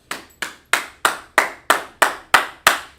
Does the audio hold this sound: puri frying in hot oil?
no